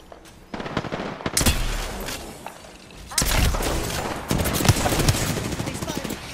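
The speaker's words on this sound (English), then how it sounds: "They spotted me. I'm taking shots." Video game gunfire bursts out in loud, rapid volleys, with a short lull between the clusters before dense automatic shots resume and carry on to the end.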